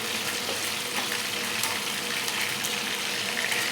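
Chicken pieces frying in oil over a low gas flame, giving a steady, continuous sizzle and hiss throughout, close and fairly loud, with no talking.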